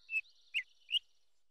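A little cartoon bird gives three short, bright whistled chirps, evenly spaced, each clear and alone against near silence.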